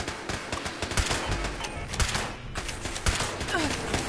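Rapid gunfire in a PS4 shooter game, with bursts of shots and impacts over busy game audio and music, running steadily throughout.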